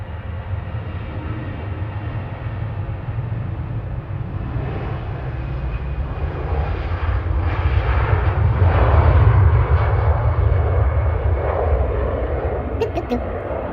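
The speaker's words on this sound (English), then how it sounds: "EasyJet on the roll to Jersey, GEZUN A320 Classic with flight 729." An EasyJet Airbus A320 Classic on its takeoff roll at Manchester, bound for Jersey, builds a deep, loud engine rumble that swells to a peak midway and then holds, with voices talking over it.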